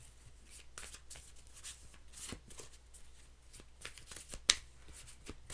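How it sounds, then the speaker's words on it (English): Tarot cards being shuffled close by in repeated soft riffling bursts, with a sharp tap near the end; quiet otherwise, no talking. "What is happening with these cards? I can't shuffle."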